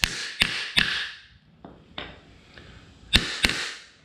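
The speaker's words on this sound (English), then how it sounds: "I'm going to use the metal hammer." A metal hammer taps astromech droid center leg parts: sharp, bright strikes come in quick irregular bursts close by, with softer knocks between them and no talking.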